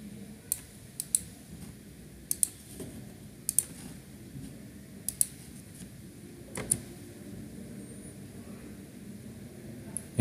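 Someone types a password on a computer keyboard in short bursts of sharp, close keystrokes separated by pauses. A faint hum sits underneath and nobody speaks.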